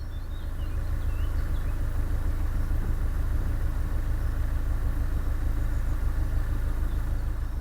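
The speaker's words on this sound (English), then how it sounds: "I've got the engine on tick over again as I go past this moored boat" A narrowboat diesel engine ticks over at idle on a canal while cruising slowly past a moored boat, giving a steady, low, continuous throb without pauses or rises and no talk.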